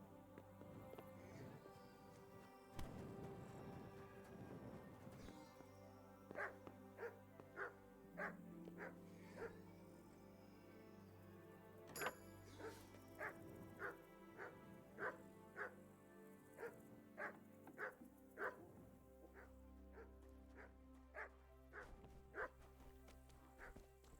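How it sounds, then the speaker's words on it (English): A dog barks repeatedly in the medieval role-playing game Kingdom Come: Deliverance. Short, evenly spaced barks come at a moderate distance over a quiet, low ambient game background with faint clatter. "It's a dog barking."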